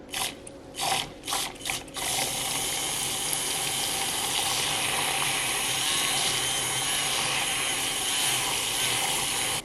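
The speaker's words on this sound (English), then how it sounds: "And then I'm going to like froth again." A handheld frother whirs in a pumpkin spice latte, starting with a few short pulses and then settling into a steady, close, high-pitched mechanical buzz.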